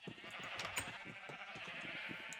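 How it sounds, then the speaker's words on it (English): Sheep bleat in a farm survival video game, several close, repeated nasal cries in quick succession over a steady background hum. "I don't know where that little black sheep went."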